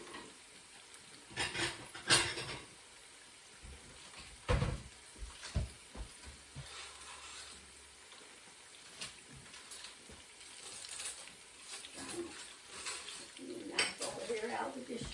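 In a home kitchen during meatloaf serving, scattered clinks and clatters of a plate and dishes being taken out and handled, fairly faint and sparse, with quiet rummaging noises between the louder knocks.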